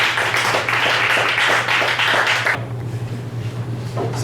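An audience at a Pride-edition Liars Club reading night at Mandy's Bistro on Danforth Avenue claps for a reader walking up, a dense burst of applause that stops abruptly partway through, leaving quiet room murmur.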